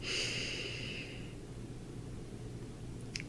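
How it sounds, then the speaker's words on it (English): A deep breath drawn in during a guided meditation, a soft, airy inhale that swells briefly at the start and then fades into quiet room hiss, heard alone. "So once again, we take in another deep breath."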